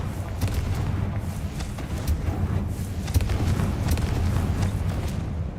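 Confringo explosion spell blasts in Hogwarts Legacy, a series of deep booming impacts over a rumbling low bed, repeated bursts in quick succession with no talking.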